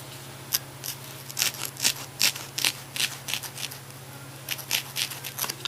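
Small scissors snip through claw pieces for a costume handpaw, a series of short crisp cuts in irregular bursts, close and fairly quiet over a low steady hum, with no talking.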